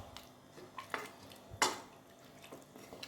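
Rice being stirred in a pot for peas pulao, giving soft scraping and clinking of a spoon against metal, with a few sharper knocks and a louder clatter midway, close by and without talk.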